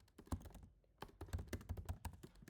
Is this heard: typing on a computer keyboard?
yes